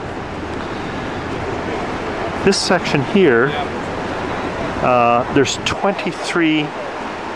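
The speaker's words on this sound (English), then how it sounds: "the turbines discharge the water underground here, and that's why the current is very fast." Fast water pours out below the Three Gorges Dam turbines at Sandouping, China. It makes a steady broadband rush and roar under a man's nearby speech.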